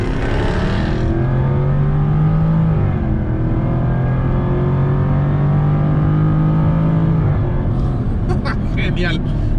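Engine of a 2021 Jaguar F-Type R sports car revving, a loud sustained roar that rises and falls over most of the stretch, with a voice talking over it partway through.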